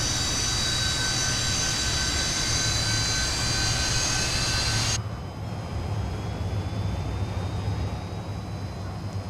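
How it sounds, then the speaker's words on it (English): A Fokker aircraft engine in Microsoft Flight Simulator 2024 roars loud and steady, with high whining tones that sweep slowly upward, then drops abruptly to a quieter, duller hum partway through. "Engine spooling up."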